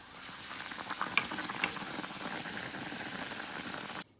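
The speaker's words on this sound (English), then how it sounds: "The bakes are frying up nicely." Dough sizzles and crackles steadily as it fries in hot oil in a pan, with a couple of sharper pops before the sound cuts off.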